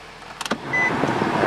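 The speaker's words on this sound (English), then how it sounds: "Turn on the AC." A Nissan's A/C blower motor fan spins up inside the car after a few short clicks, settling into a steady, fairly loud broadband whoosh of air close by.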